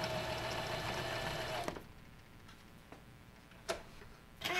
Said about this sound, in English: now we're just going to do however the sewing machine is set right now